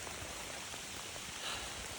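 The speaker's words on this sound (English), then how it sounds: "it's still pouring down rain" Heavy rain pours down steadily on open public land in Nebraska, a dense, even hiss with no pauses and no voices.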